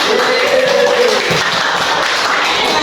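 A group in a classroom-style session breaks into applause, a dense burst of many hands clapping close by that carries on at a steady level for a few seconds.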